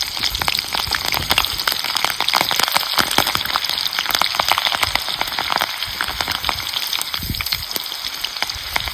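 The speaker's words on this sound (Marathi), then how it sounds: "तर ह्या सुद्धा आपल्याला तेलात तळून घ्यायच्या" Slit green chillies frying in hot oil for village-style cauliflower pakoras give a dense, steady crackling sizzle with sharp pops throughout, close and loud, with no talking.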